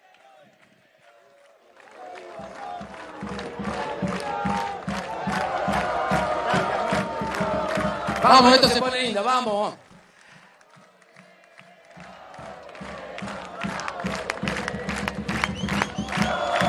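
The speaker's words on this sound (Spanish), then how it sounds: "Fuerte, fuerte, fuerte el aplauso." A large crowd at a political rally claps and cheers in a sustained wave that swells to a loud peak, dips, then builds again, with someone shouting over it.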